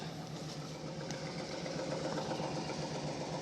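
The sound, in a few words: 1998 Chevrolet Suburban engine revving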